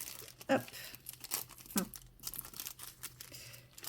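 A taped paper pouch being unfolded from an envelope, with soft close crinkling, crumpling and a small tearing sound, while a voice briefly speaks a single word.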